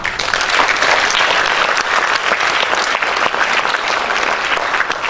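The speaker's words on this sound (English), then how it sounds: "Give a round of applause for them." Sustained audience applause fills a school awards day hall, loud and dense with many hands clapping steadily throughout, no voices rising above it.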